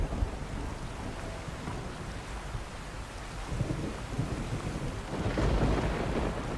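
Thunderstorm in the game Horizon Forbidden West: dense, steady rain hiss under low rolling thunder that swells louder toward the end, continuous and enveloping with no voices.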